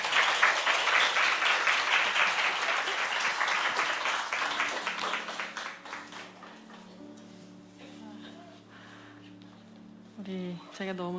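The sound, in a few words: applause welcoming the speaker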